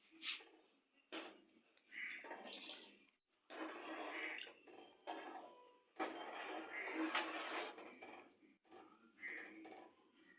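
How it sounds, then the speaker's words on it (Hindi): Water splashing and trickling into a metal pot of rice for matar pulao in several short bursts, close and fairly quiet, with brief pauses between pours. "इसमें भी थोड़ा सा पानी और डलेगा।"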